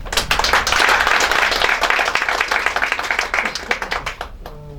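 A church gathering at a Korean Methodist missionary conference breaks into loud, sustained applause, dense clapping from many hands swelling at first and then thinning into scattered claps before fading.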